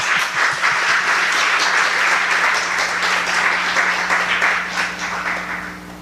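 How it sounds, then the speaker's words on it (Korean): A church congregation applauds during a Sunday worship service, dense, loud sustained clapping from many hands filling the room for several seconds before easing slightly at the end, with no speech over it. "우리 한번 사랑의 박수를 한번 드리고."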